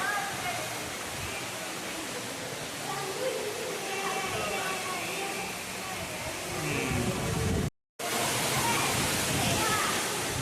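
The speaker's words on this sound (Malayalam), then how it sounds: "അവസാനത്തെ മഴയും കിട്ടിയിരിക്കുന്നു" Heavy rain pours steadily at a college campus, a dense broadband roar like rushing water, with voices talking underneath and a brief cut to silence near the end.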